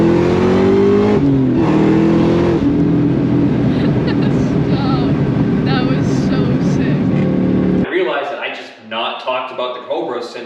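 A 2003 Ford SVT Cobra accelerating hard in first gear, a loud close engine roar climbing in pitch for several seconds before cutting off, followed by someone talking excitedly.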